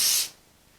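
Short burst of spray adhesive hissing onto layered quilt fabric, a close, loud airy spray lasting about a quarter second before cutting off into quiet.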